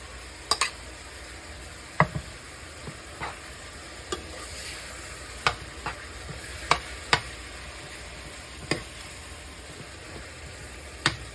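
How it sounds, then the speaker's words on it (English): Potatoes stirred into hamburger frying in a pan, with a steady soft sizzle under sharp scattered clinks and scrapes of a utensil against the pan, close and fairly quiet. "now you want to add your potatoes."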